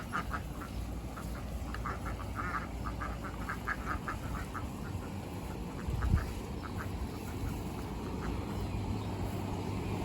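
Two free-ranging ducks quack excitedly at their backyard pool, a rapid run of fairly close, moderately loud quacks in bursts over a steady low outdoor background, with a brief thump midway.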